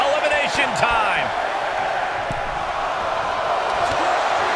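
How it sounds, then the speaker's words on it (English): A large crowd at a live wrestling event, the Jingle Bell Rock 'N' Rumble 2022, roars and cheers loudly and steadily throughout, with scattered whoops and a few thuds from the ring. "The sound of this crowd is deafening, and he's asking for more."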